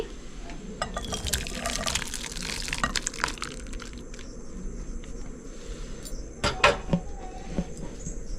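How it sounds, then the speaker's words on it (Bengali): Cooked moong dal with bottle gourd, bitter gourd and drumsticks poured from a pan into a bowl, wet sloshing and clinks up close, with a few later spoon taps and faint background insects. "ডালটা আমি একটা বাটিতে ঢেলে নিচ্ছি"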